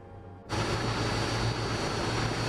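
Jet engines of an L-1011 TriStar airliner in Microsoft Flight Simulator 2024 cut in abruptly after a brief quiet moment, then hold a loud, steady, broadband roar with a low hum.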